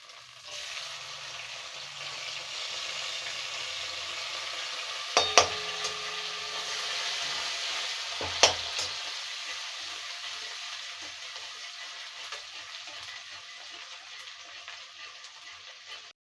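Whole cumin seeds and chopped garlic sizzle in hot oil for a Bengali village-style dried shrimp dish, a steady close hiss lasting over fifteen seconds, broken by two sharp clinks of a utensil against the pan.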